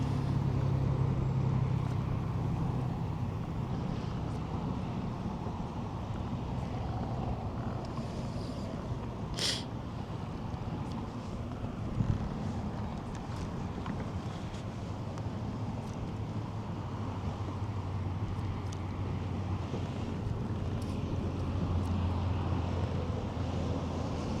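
Cold wind gusting steadily over open water in the Florida Keys, heard from a fishing kayak: a continuous broad rush with low rumbling buffets against the microphone, loud and unbroken for the whole stretch, with no talking.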